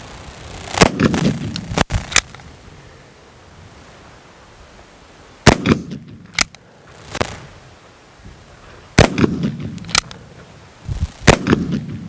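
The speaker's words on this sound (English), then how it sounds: "the results of shooting the Colt Army at about 10 yards is the following" Colt Army revolver fired by a standing shooter at about 10 yards outdoors, with sharp loud reports in irregular clusters, some shots close together and others separated by pauses, and no talking.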